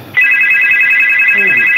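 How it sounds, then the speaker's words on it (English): A mobile phone ringtone starts abruptly and rings loud and steady as a bright, sustained electronic tone, close by and on its own. "My phone just rang and that scared the shit out of me."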